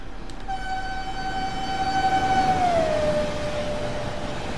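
A train in the Train Sim World 2 game on the Hagen–Wuppertal line passes at speed, its steady horn-like tone falling in pitch as it goes by over a continuous rumble, alone without voices.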